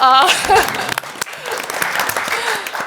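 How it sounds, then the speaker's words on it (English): An audience claps for a speaker being introduced at a presidential debate event in a Chicago hotel, the clapping rising briefly under loud talking voices and a sharp opening tone, fairly close. "Let's clap for her"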